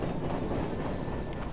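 Subway train ambience in the horror video game Bunny Man Lost Souls, a steady low rumble of rolling rail cars with faint rhythmic clatter, continuous and fairly quiet, with no voices.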